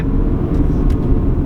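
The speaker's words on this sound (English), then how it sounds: "if I shift down to 3rd, it was instant" Porsche Macan engine in manual mode during quick downshifts and upshifts, a steady low rumble held close and loud throughout with no voices over it.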